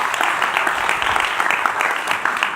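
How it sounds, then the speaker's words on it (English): A conference audience gives a round of applause for the event sponsors, producing sustained, even clapping from many hands at moderate loudness with no voices over it. "So another round of applause for our sponsors,"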